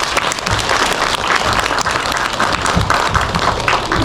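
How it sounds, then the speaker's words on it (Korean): Vigorous audience applause at a residents' meeting on redevelopment of a Junggye apartment complex in Seoul, dense clapping sustained throughout with no speech. "힘찬 박수 부탁드리겠습니다."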